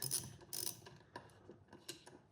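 A ratchet wrench loosens the single top shock mount bolt while Bushtec shocks are being replaced: two loud bursts of rapid clicking, then quieter scattered ratchet clicks and metal taps, close up with no talking.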